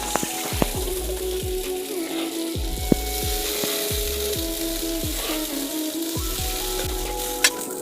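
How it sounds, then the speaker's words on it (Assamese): Liquid hits a hot wok holding a ginger-garlic vedailota curry, sending up a continuous loud close sizzle with repeated metallic scrapes and clinks of stirring throughout. "এতিয়া এয়া মই জোলখিনি কেৰাহীত ঢালি দিছোঁ।"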